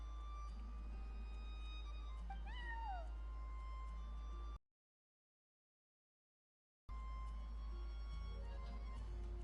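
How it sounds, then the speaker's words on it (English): A neighbor's cat in Genshin Impact gives a couple of clear, wavering meows over a steady low hum, the sound cutting out briefly to silence midway. "that's my neighbor's cat"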